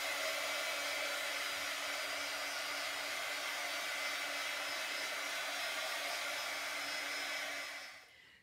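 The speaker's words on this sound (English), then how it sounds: "I have my heat gun that I'm gonna just start drying them off with." A heat gun blows a steady, loud, even roar over tea-stained paper laid on wax paper, running unbroken for several seconds before cutting off and tapering away at the end.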